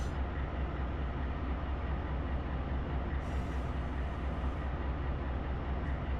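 A freight train of containers in the Run 8 Train Simulator game rolls steadily along, a constant low rumble with no distinct clacks or voices.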